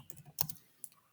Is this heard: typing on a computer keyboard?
yes